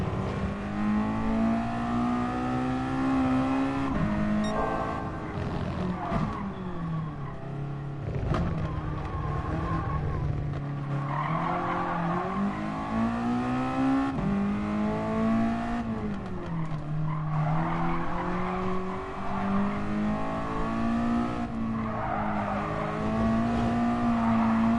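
Race car in Gran Turismo Sport braking hard into a corner and accelerating away, engine note rising and falling continuously with tire squeal, loud and close throughout.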